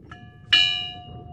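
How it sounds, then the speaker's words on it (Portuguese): A single strike of the church bell of Igreja São Francisco de Assis in Sabará, Minas Gerais, ringing out sharply up close and leaving a clear, steady ringing tone that slowly fades, after a faint earlier tap. "Isso aí, gente, é o sino."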